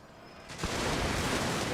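Cannon fire in a battle video game, a sudden boom that swells into a sustained, dense roar of distant gunfire and rumble.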